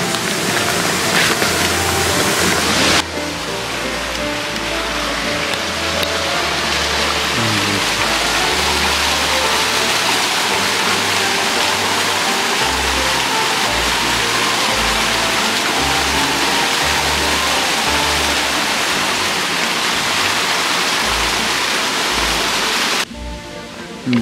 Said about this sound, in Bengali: সামনে ঝর্ণা